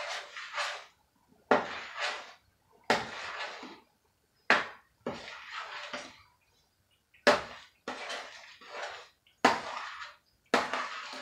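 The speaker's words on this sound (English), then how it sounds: "I'm gonna go ahead now and give this a stir." A spoon stirring sugar into persimmon jam in a pot makes repeated scraping, gritty strokes in short separated bursts with pauses between, close and moderately quiet.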